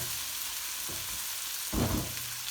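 Tandoori chicken curry sizzling steadily in a pan, a constant close frying hiss with a louder burst of crackle near the end as the food is stirred or moved.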